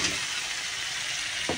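Potatoes drop into a pan of frying spiced masala, giving a steady, close broadband sizzle throughout, with a brief louder crackle near the end.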